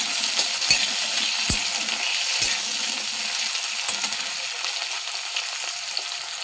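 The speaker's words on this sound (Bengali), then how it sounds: "নেড়ে নেব" Chopped tomatoes frying in hot oil and being stirred, a steady bright sizzle with a few sharp utensil knocks against the pan early on, close and continuous with no talk.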